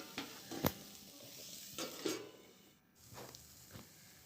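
Potatoes and cauliflower fry in a pan while a utensil stirs them, making a soft background sizzle broken by several distinct scrapes and clatters against the pan at irregular intervals.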